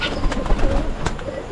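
Plump domestic pigeons coo in a few low, throaty bursts close by, loud and clear with no talking over them.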